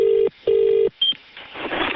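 Telephone dialing tones ring out as a number is called on a phone line: two clear, loud keypad beeps, then a short high chirp, followed by rising line noise as the call connects.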